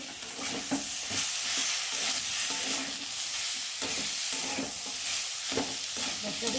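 Ginger and cumin paste with turmeric sizzles steadily in a pan while a spoon stirs and scrapes at intervals, close and continuous with no talking.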